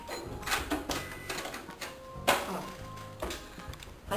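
Sewing machine stitching fabric with a backstitch to secure a zipper on a fabric pencil case, a quick run of close, rattling mechanical stitching with brief pauses, fairly near and without talk.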